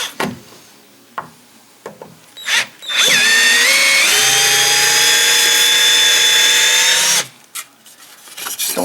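A power drill backs a screw out of a door frame while hanging a closet door in a basement renovation, whining loudly and steadily for about four seconds after a short start, with brief bumps of handling before and after.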